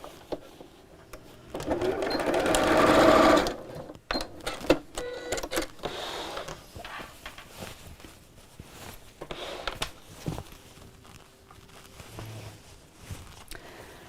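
A sewing machine stitches the seams of a crossbody bag in a burst of fast rapid whirring, followed by quieter clicks, handling taps and shorter intermittent stitching runs.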